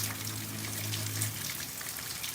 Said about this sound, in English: It's not raining as hard as it did earlier, but it's raining.